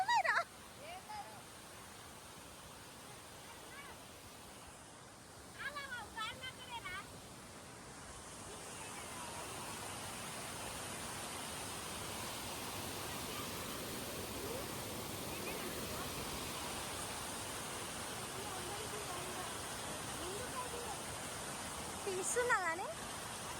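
A village waterfall in Nizamabad pours with a soft, continuous wash of rushing water, faint and steady throughout, while people talk now and then over it.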